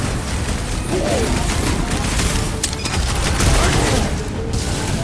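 Sniper fire and chaotic combat noise in the video game Marvel's Guardians of the Galaxy, with loud, dense bursts of shots and crashes throughout under a constant din of action.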